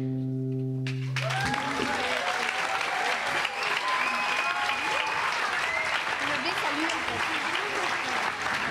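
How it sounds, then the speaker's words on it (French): Loud, sustained applause from a school audience at a year-end collège concert, beginning after a brief held musical note and continuing steadily with dense clapping and some crowd voices throughout. "On peut les applaudir encore très très très fort"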